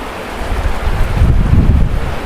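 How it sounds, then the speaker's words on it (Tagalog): Strong typhoon wind (Typhoon Kristine, Signal No. 3, Philippines) roars and buffets the microphone in a loud, continuous low rumble with gusty swells and no voices. "Malakas po yung hangin."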